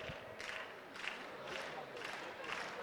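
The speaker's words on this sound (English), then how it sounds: "And that is thunderous clapping, undoubtedly for the home team." Crowd clapping for the home team at a women's football final, heard as a quiet, steady wash of applause with faint rhythmic surges roughly every half second, somewhat distant.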